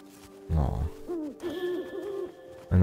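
An owl hoots in the video game Never Alone, with a few soft, rounded calls spaced apart over quiet ambient game sound and a low rumble.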